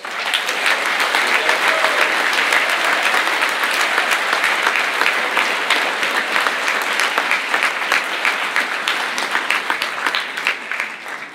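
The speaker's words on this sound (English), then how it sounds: "Give her a great big round of applause." A live audience gives a loud, sustained round of applause at a school event, dense clapping holding steady for over ten seconds before easing slightly at the end.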